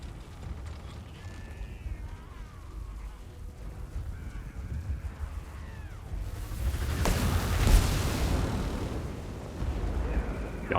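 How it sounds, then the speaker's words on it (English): Artillery fire in Total War: Warhammer 2, a fantasy strategy battle against Skaven pirates, with a low rumbling backdrop that swells into a heavy booming blast midway, followed by continued roar and crackling impacts. "The artillery duel begins in earnest as we take on the Skaven Pirates"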